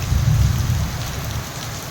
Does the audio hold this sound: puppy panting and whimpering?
no